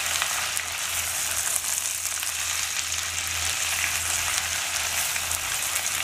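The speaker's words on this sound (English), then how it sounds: "Fry the pieces well." Mutton pieces, already cooked in a pressure cooker, fry in a pan for pulao, giving a steady, continuous sizzle with a low hum underneath and no talking.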